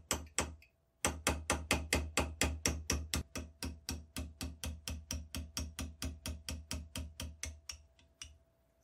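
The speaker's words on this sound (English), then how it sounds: "Light taps ensure that the pin isn't lost when it's finally out." A light hammer taps steadily to drive a pin out of a New York State Militia rolling block rifle, giving close, crisp metallic strikes in an even rhythm of about three per second after a first lone tap, with no talking.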